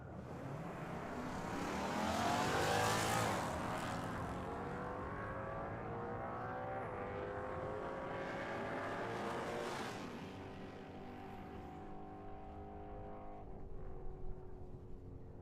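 Drag race cars, including a Mustang, launch with a loud rising roar that builds to a peak, then sweeps away and fades into a steadier distant engine drone.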